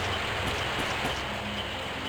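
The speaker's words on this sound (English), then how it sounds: "A hard rain is falling." Hard rain falls steadily in the video game Grandia HD Remaster, a dense, even hiss of downpour lasting throughout with no talking.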